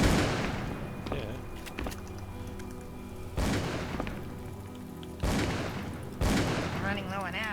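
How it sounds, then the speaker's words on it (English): Gunfire in the Call of Cthulhu game: several sharp, booming shots ring out at irregular intervals, each leaving a short echoing tail over a low background hum. "Keep shooting!"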